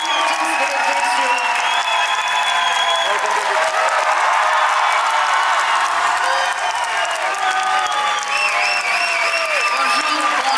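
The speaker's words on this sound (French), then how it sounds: "Je vous demande donc de faire effectivement un vrai tonnerre d'applaudissements pour Jamie Curtis, mesdames et messieurs." A packed cinema audience at a Halloween premiere at the Grand Rex in Paris erupts in loud, sustained applause mixed with cheering, whoops and shrill whistles, filling the hall continuously for about ten seconds.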